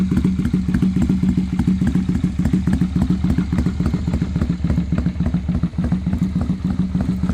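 A tuned Honda Steed 400 old-school custom motorcycle with a single carburetor runs steadily nearby, its low, loping engine thump and mechanical clatter continuous and loud throughout.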